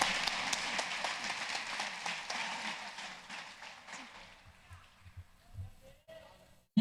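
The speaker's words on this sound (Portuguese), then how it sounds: "Igreja, uma salva de palmas" A church congregation at an evangelical service claps together in a full, dense round of applause that thins out and fades after about four seconds, leaving scattered small knocks and near silence.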